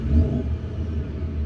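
A supercharged 1UZ V8 in a Hilux gets a brief dab of throttle, a short deep rumbling rev that swells and settles back toward idle, heard close and without talk.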